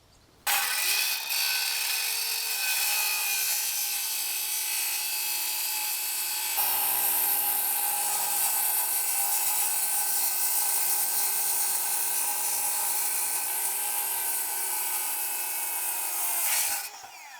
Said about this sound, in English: Let's go ahead and make a few rips, and you're going to see how fast this actually cuts.